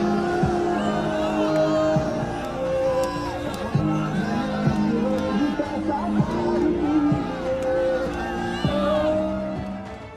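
A large crowd at an Akhilesh Yadav rally in Jhansi cheers and whoops as he steps out onto his bus, with dense shouting and chatter filling the air and voices rising over one another throughout.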